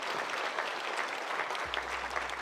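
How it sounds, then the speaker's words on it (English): A crowd applauds steadily at the opening of a Lorcana championship event, dense clapping filling the room for a couple of seconds at moderate volume. "give yourselves a round of applause for being here and supporting this cause"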